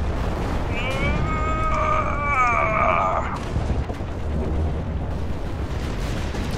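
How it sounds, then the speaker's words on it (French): Tank cannon fire and battlefield explosions in the War Thunder game, loud booming shots over constant rumble, with a rising and falling whistling tone in the first half and no speech. "Des tirs en face, des tirs à droite."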